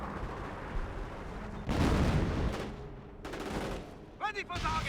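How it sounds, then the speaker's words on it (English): Howitzer artillery barrage in the real-time strategy game Company of Heroes 1, a heavy roaring blast followed by rumbling impacts and scattered battle noise, with a voice talking over the action. "Howitzer barrage onto Nebulwarfer, counter barraging's last known location."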